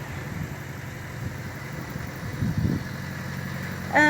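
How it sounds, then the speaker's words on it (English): A Beta 60 sailboat diesel engine drones steadily and low, heard from below deck, constant and muffled, with a brief louder knock near the end. "we're going to be a bit noisy down here with the engine on"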